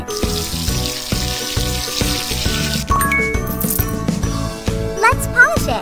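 Water running and splashing as a slide gets washed in a children's cleaning game, with tinkly chimes, bright effects and cheerful music over it, and a voice talking throughout.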